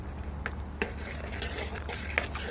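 Shallots, dried chilies and mustard seeds tempering in a pan for a Kerala lunch, heard as steady stirring with sharp metal utensil clinks and scrapes against the pan, close and moderately loud, with soft frying underneath.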